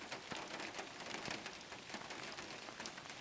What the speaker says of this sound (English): The shed is nothing but an amplifier for the rain's staccato